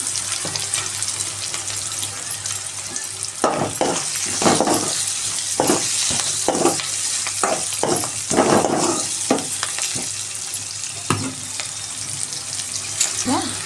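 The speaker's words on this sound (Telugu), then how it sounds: "ఇది వేగుతుందండి." Drumstick leaves frying in a pan with peanut and sesame powder, giving a steady bright sizzle throughout, broken by several sharp stirring and scraping clatters in the middle, fairly close with no speech.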